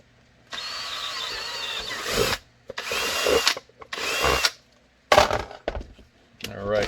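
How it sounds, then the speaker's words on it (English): Power drill boring 7/32-inch retention holes in a Kydex holster for a Sig Scorpion, in several close, loud bursts of a second or two each, separated by short pauses and handling clatter. "I'll go ahead and drill these guys"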